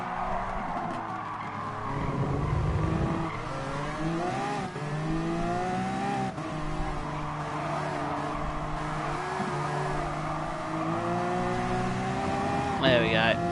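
A race car in Gran Turismo Sport spins its wheels under too much throttle, the engine whining and tires scrabbling loudly and continuously, with a voice talking over the racing.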